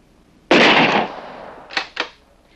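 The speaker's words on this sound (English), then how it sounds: "A first shot will test Dr. Edgerton's aim." A single loud gunshot fired at a target during a strobe-light photography test, a sharp blast with a decaying tail, followed by two quick fainter cracks.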